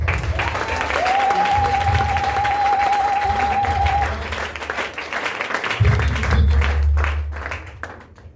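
A church congregation applauds, sustained dense clapping from many hands with a held vocal or organ-like tone and occasional shouts, thinning toward the end as low voices come in.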